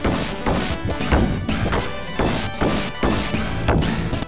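Gritty retro beat-em-up sound effects from a Teenage Mutant Ninja Turtles game on the Sega Genesis: a dense run of loud smashing and thwacking hits over game audio, repeating roughly every half second with no talk.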